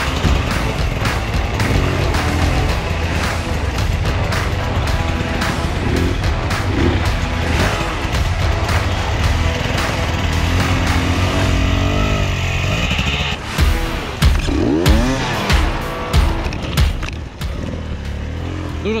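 An enduro motorcycle engine revs and strains through a difficult hard enduro section near a river at a championship race, with loud, uneven bursts of throttle and sputtering, close by and occasionally under faint talk.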